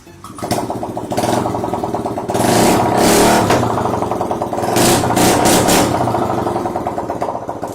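A Honda Click v3 scooter engine, just repaired with a new injector and fuel pump, runs steadily at close range, its idle rising into a couple of louder revs before settling, with no talk over it.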